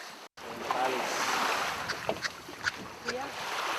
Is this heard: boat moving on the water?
yes